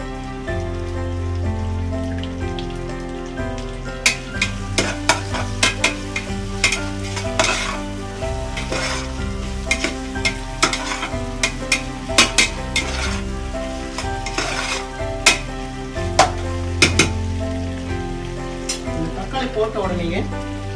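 Chopped tomatoes sizzle steadily in a hot pan with ginger-garlic paste while a utensil scrapes and clatters through them, stirring in frequent irregular strokes.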